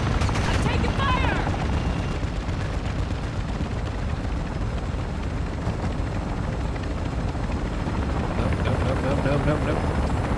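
Gunfire aimed at the player in a Call of Duty Warzone-style shooter, dense and continuous bursts mixed with the steady roar of a helicopter overhead, loud and close throughout.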